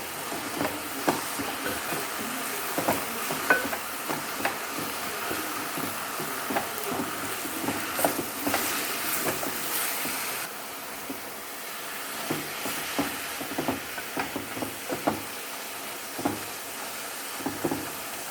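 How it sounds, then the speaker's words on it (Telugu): Amaranth leaves stir-frying in a pan over a medium flame, a steady close sizzle with soft scraping stirs and hiss running throughout. "మరీ హైలో కాకుండా మరీ సిమ్లో కాకుండా మీడియం ఫ్లేమ్లో మగ్గనిద్దాం"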